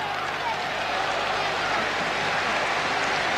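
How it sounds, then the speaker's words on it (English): A rugby crowd at Stradey Park cheers through a 1991 Rugby World Cup pool match between Argentina and Australia. The roar is broad, dense and continuous, filling the whole stretch with a steady wash of noise. "And the crowd at Stradey Park loving it"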